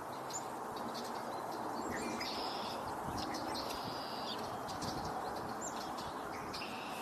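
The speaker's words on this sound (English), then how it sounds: "I think I just heard a chickadee" Small songbird calls, likely a chickadee, sound from trees on an outdoor walking tour in April. Several thin, high chirps and short phrases come at intervals over a steady outdoor background, moderately distant, with no talking.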